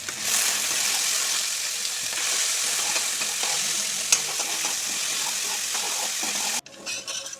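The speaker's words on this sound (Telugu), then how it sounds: "ఆలూని వేసి డీప్ ఫ్రై చేసుకోవాలి" Potato pieces deep frying in hot oil for masala pasta: a loud, even bubbling sizzle that runs unbroken for several seconds before cutting off abruptly near the end, with no voices.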